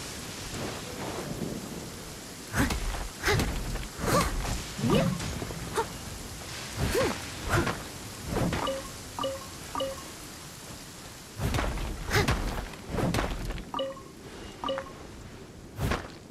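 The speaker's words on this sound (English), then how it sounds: "rain won't slow me down" Rain patters steadily across a Genshin Impact landscape while thunder cracks and rumbles in repeated bursts, several loud rolls spaced through a stormy, fairly quiet bed of falling water.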